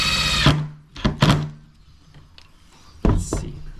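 A power drill drives screws into pallet wood for a bird feeder, giving a short whirring burst followed by a few knocks and another brief spin, close and fairly loud.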